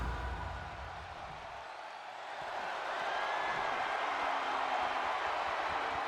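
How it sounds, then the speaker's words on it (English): Arena crowd cheering in the WWE 2K24 wrestling video game, a steady broad roar that swells slightly after a brief dip and holds loud throughout, with no voices over it. "Oh, the crowd are loving this."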